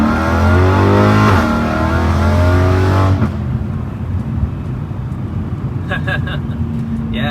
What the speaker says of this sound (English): With the valves open, and the first thing I notice is that the pitch is a little higher